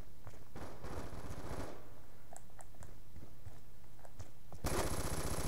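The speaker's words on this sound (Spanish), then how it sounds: "Ah, una ametralladora ligera, digo, la máquina de muerte." Light machine gun firing in Call of Duty Black Ops II, with rapid bursts of automatic gunfire, a pause with scattered clicks and small impacts, then another loud burst at the end.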